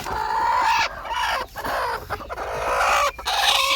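A native country hen sitting on a clutch of fifteen eggs clucks and growls in close, loud, repeated bursts with short pauses, heard alone.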